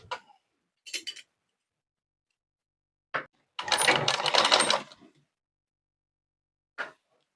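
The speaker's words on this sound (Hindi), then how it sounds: "तो अभी इसको पहले सिलाई कर लेते हैं।" Short bursts of a domestic sewing machine stitching fabric with bobbin thread, one longer run of about a second among brief clicks and taps in an otherwise quiet room.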